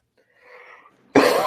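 A single abrupt, loud cough bursts out close to the microphone after a moment of faint breathy throat noise.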